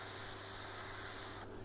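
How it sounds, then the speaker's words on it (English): Steady hiss of spray paint being sprayed onto a painted blade detail, a single continuous burst lasting over a second before cutting off abruptly. "we'll kind of just spray that in"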